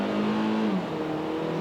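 A 2017 Kia Soul Turbo engine drones under load, then its steady pitch sags and drops as it bogs down, loud and close with no talk.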